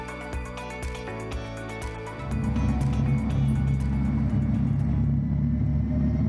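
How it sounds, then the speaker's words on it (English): Audi e-tron GT electric motors running for the first time on a chassis dynamometer in the production line, a steady tonal hum that swells into a louder, broad rumbling drone after a couple of seconds, close and continuous. "The motors run for the very first time on the chassis dynamometer."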